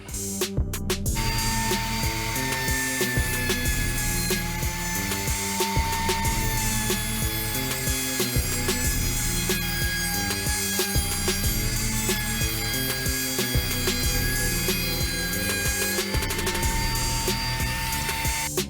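A router cutting a cove profile into wooden frame parts, a loud continuous high-pitched whine with a steady tone, rising and dipping slightly as the bit passes through the wood, with no talk.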